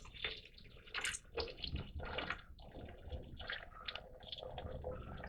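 Hot water from a coffee pot poured in a gentle, uneven trickle over items to cover them, faint and close with splashing bursts and brief pauses, no talking.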